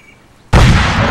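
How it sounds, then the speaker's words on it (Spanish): An explosion in the video game Arma 3 bursts out suddenly after near silence, a single loud close boom with a roaring tail that holds strong to the end. "Brutal esa explosión"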